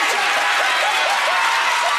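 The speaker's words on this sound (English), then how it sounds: "Give them a round of applause" Studio audience applauding contestants on a children's game show, a steady wash of clapping and crowd noise filling the whole moment, loud and continuous.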